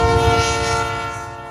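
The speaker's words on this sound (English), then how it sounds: "Check it out, Ginger, a train's coming." A train approaching and sounding its horn, a loud sustained multi-tone blast over the rumble of the engines, held steady throughout the short clip.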